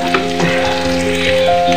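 Onion sautéing in a hot pan for a stir-fried pancit noodle dish gives a steady, close sizzle and crackle that holds through the short clip, with no talking.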